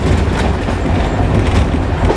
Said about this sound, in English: it's not progressive like a diesel, you know, it accelerating. And it rattles. It rattles.